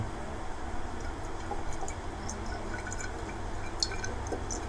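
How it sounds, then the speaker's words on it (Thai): Vinegar pours into an empty bottle, a steady continuous liquid trickle with faint dripping, fairly quiet and unbroken, with no talking. "จะนำขวดเปล่ามา แล้วก็เราจะเทน้ำส้มสายชูไป ครึ่งขวดนะครับ"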